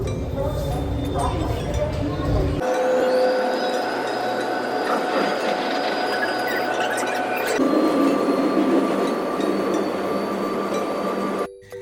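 A Chennai metro train at the terminal station platform with a hum and metallic squeals, a tone shifting midway as it moves; background chatter and clinks.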